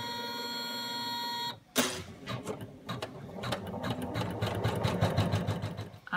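After a steady tonal hum, an embroidery machine starts up and stitches a mouse body outline on stabilizer, a fast, even needle rattle close by with clicking mechanical bursts and no talk.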